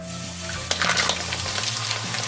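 Mixed seafood dropping into a hot pan sets off a burst of sizzling and frying, with a few soft stirring scrapes, held close and steady with no talk.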